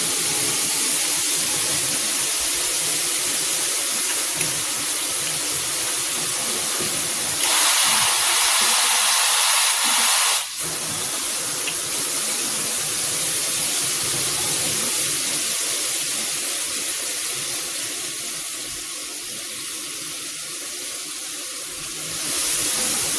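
Steady broadband hiss of water jetting from a xianshengle high-pressure handheld shower head, loud and continuous for the whole stretch, shifting briefly in tone as the spray moves, with no voices.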